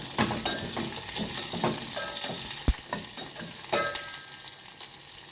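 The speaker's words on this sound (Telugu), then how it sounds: "ఇంక ఇప్పుడు పచ్చిమిరపకాయ, ఉల్లిపాయ, కరివేపాకు వేసేసుకొని వేగించుకుందాం." Green chili, onion and curry leaves frying in hot oil over a tempering of dried red chili and garlic, a continuous close sizzle broken by scraping stirs of a spoon in the pan.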